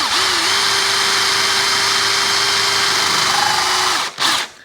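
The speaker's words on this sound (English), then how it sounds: "the hole saw will do its little job" A power drill with a hole saw and pilot drill whines at a steady high pitch for several seconds, then cuts out briefly and revs once more before stopping.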